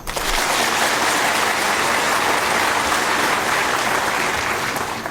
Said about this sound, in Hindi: सम्मान में एक बार जोर की तालियां बजाएं।